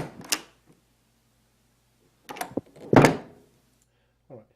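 A recorded door opening and closing, heard as a couple of sharp knocks followed by a louder, fuller thud with a short rattle and a faint knock at the end, close and dry with quiet gaps between.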